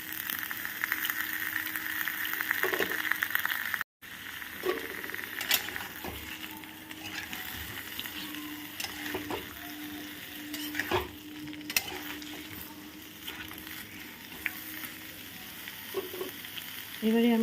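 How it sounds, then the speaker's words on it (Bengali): Mango pieces sauté in hot oil for a sweet mango pickle, a steady close sizzle with intermittent scrapes and knocks of a spoon stirring the pan. "মিনিট 5-6 একটু ভালো করে আমি এটাকে সাঁতলিয়ে নেবো আমটাকে।"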